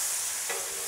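Steady sizzle of blackened ahi tuna frying on a Blackstone griddle, with a brief scraping flip of the fish midway through, close and continuous with no talking.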